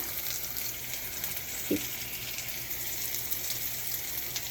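Steady hiss of sprouted moth beans frying in hot tempering oil runs throughout, fairly soft and even, with one brief clink partway through.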